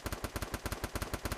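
Rapid automatic gunfire from the Free Fire video game, a fast run of about twenty evenly spaced loud shots over a second and a half, with no voices.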